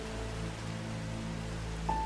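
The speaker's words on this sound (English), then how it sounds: "much heavier rain was falling on the slopes above the village" Steady heavy rain hisses in a continuous wash of noise over a low hum, falling on slopes above a village, with a faint tone appearing near the end.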